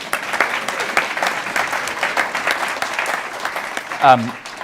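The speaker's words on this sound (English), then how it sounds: "Please give yourselves a round of applause for that" A room full of people at a City Club community forum applauds themselves, a dense, steady round of clapping lasting several seconds before a brief voice cuts in near the end.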